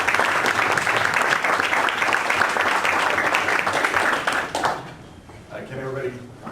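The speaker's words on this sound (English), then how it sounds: "let's give him a big round of applause" Crowd applause welcoming a comedian, loud and dense steady clapping for several seconds, then fading out as a voice begins speaking.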